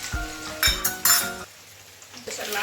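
Onions sauté in oil in a pan for a tamarind brinjal curry, with a few sharp metal clinks of a spoon stirring against the pan, then a softer background sizzle.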